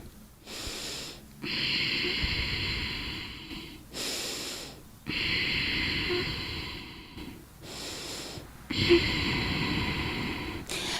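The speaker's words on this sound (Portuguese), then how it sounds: "o intuito é que você inspire e exale pelas narinas, só que você vai fechar levemente a tua glote. Então, ela vai fazer um ruído" Breathing in and out through the nose with the glottis slightly narrowed, producing three long, rough, hissing exhales separated by short inhales, close and loud with no talking.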